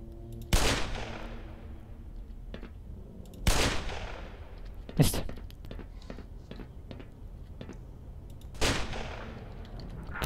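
Gunfire in the Black Mesa shooter game: four sharp, loud shots spaced several seconds apart, each with a long decaying echo, with faint clicks and movement between them.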